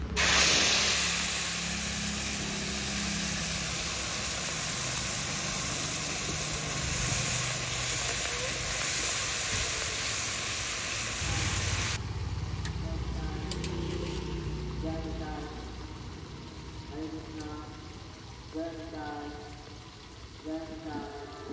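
A ground paste of garlic, mustard seed, green chilli, salt and turmeric hits a hot pan for a Bengali bhola fish curry. It gives a loud, broad hiss that runs for about twelve seconds and then drops to a softer sizzle, with faint talking near the end.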